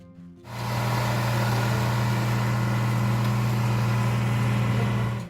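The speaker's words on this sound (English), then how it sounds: "the deep, warm roar of the John Deere 4020" A deep, steady engine drone with a strong low hum, starting abruptly and running loud and unbroken, from a John Deere 4020 tractor idling close by.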